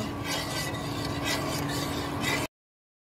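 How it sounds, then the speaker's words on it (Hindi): A spoon scrapes and swirls through thickening milk in a pan on the stove for mava falooda, a steady close stirring rasp with a faint bubbling undertone, stopping abruptly. "हमें इसे हिलाते ही रहना है ताकि नीचे लगे नहीं"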